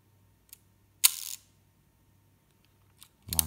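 Sputnik stereo camera shutter clicking, a few sharp mechanical clicks with one longer open-and-close snap, near and isolated in a quiet room.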